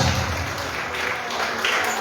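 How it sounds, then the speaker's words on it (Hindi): Wedding audience applause at a celebrity couple's ceremony, a dense, steady wash of clapping from a crowd that continues evenly throughout. "एक और जोड़ी के लिए जोरदार तालियां होनी चाहिए"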